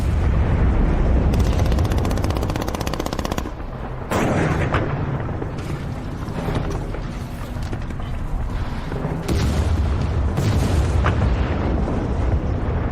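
The battleship Texas fires naval guns in support of Rangers attacking German positions on D-Day, giving loud, sustained rumbling booms and blasts that blur into a dense, roaring barrage.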